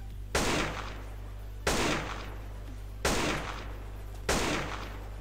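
Four loud, evenly spaced gunshots in GTA San Andreas Multiplayer, each a sharp crack with a short decaying tail, over a steady low hum.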